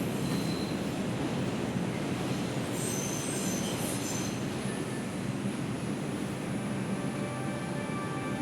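A New York City subway 5 train runs loudly with a dense, continuous rumble of wheels on rail, and sharp metallic wheel squeals rise over it around the middle and toward the end.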